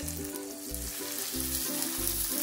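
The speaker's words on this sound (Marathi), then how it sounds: "वाटणमध्ये वाटाणे घालते। ताजे मटर आहे हे।" Fresh green peas tipped into a masala paste for a potato and pea curry, sizzling loudly and steadily in the pan with soft stirring scrapes and no voices.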